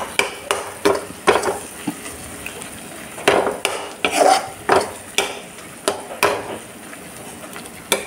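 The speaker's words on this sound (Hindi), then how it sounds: "अब इसको मिक्स करके सिर्फ 1 मिनट के लिए भून लेंगे" Masala spices being stirred and roasted in a pan, a spoon scraping the metal in about a dozen sharp, regular strokes over a low background sizzle, close and fairly loud, with no one speaking.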